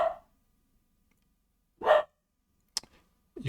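A few scattered dog barks in the background, a single distinct bark followed by a short sharp yip and a faint start of another, separated by quiet gaps.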